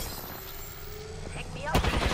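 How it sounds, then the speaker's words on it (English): Gunfire in the video game Apex Legends, a run of rapid shots with a louder close burst near the end, over a busy game soundscape with a voice murmuring in the background. "They're shooting at me."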